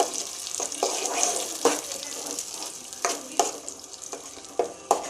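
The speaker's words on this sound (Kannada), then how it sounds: "ಇದೆಲ್ಲ ಫ್ರೈ ಆದಮೇಲೆ ರುಬ್ಕೊಂಡಿರೋ ಅಂಥ ಮಸಾಲೆನ ಇದರೊಳಗಡೆ ಹಾಕ್ಕೊಳ್ತಾ ಇದ್ದೀನಿ ನೋಡಿ" Ground masala frying in a pan for spinach sambar, a continuous close sizzle with irregular scraping knocks from a spoon being stirred through the mixture.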